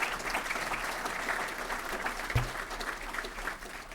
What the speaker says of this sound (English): Give all the awardees a big round of applause.